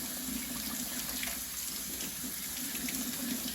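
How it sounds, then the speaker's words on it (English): Cold tap water runs steadily over frozen shrimp being thawed in a sink, a constant close hiss and splash that stays even and unbroken throughout. "this cold water gets rid of the remaining pieces of ice just like magic"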